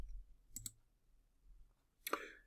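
Two quick computer mouse clicks close together, then a single louder click about a second and a half later, all in a quiet room.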